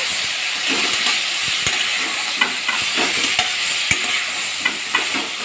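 Lau bori, bottle gourd cooked with lentil dumplings, is stirred in a pan, giving a steady sizzling hiss broken by repeated scraping strokes and soft clicks of the spoon, close and continuous.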